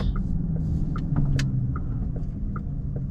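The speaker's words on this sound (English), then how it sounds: "That car doesn't look healthy." A car engine idles roughly, a steady low rumble with uneven throb that fills the whole stretch, broken by a few faint higher clicks and ticks.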